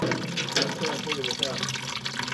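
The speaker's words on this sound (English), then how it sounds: "The fuel tank has a hole in the bottom, and that's what it looks like coming out." Diesel fuel pours steadily from a hole in the bottom of a tractor's fuel tank on a neglected farm, making a continuous close splashing, trickling stream.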